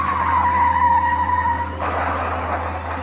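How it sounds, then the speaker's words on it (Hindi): A swerving car's tires squeal in a sustained high whine, then cut to a harsh burst of broadband noise as it slams into an electric pole; no voices. "गाड़ी लहराते हुए बिजली के खंभे से टकरा गई।"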